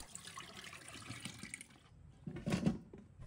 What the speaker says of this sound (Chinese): 再用清水搓洗